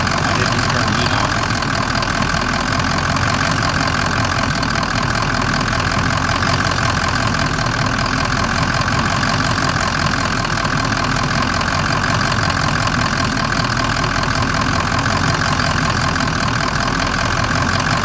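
A 2003 car engine idles unevenly with the heater on, a loud, continuous low rumble with a slightly wavering, pulsing note and no talking over it.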